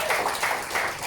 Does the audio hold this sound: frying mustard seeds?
no